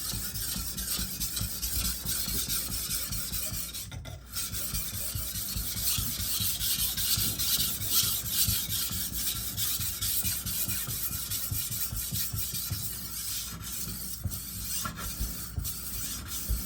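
A kitchen knife is sharpened with repeated rasping strokes of steel against a stone or rod, close up. The strokes scrape rhythmically over a steady background hiss, and there are brief pauses between runs.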